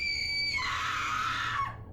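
A woman's shrill, sustained scream in a dramatized gothic horror tale rises sharply and holds for nearly two seconds before cutting off, loud and alone with no talk over it.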